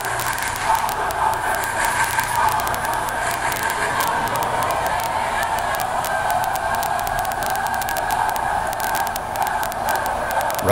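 A student crowd at a Brother Rice vs. Seton high school game performs the roller coaster cheer, a loud, sustained, close roar of many voices that swells and holds steadily throughout.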